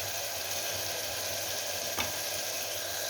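Masala for a Rayalaseema mutton curry sizzling in hot oil as it is stirred, a loud continuous frying hiss with a faint scrape of the spoon partway through.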